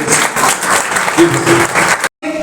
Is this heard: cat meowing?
no